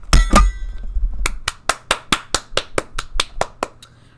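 Sharp, evenly spaced hand claps ring out one after another, about a dozen crisp strikes at a steady brisk rhythm, close and fairly loud, after a brief burst of noise at the start.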